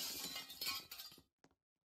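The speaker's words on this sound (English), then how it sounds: "And it just rains glass on us?" Glass shatters in a Roblox video game, a bright crashing burst of breaking panes with tinkling fragments that stops abruptly, then one small clink after a short silence.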